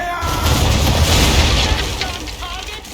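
Cannon fire from a ship battle in the video game Assassin's Creed 3 gives a heavy, rumbling boom that rolls on under shouted game voices, then fades slowly.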